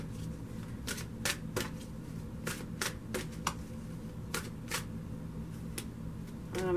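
Tarot cards are shuffled by hand in a series of quick, crisp riffling bursts, close and fairly quiet, repeating at an uneven pace.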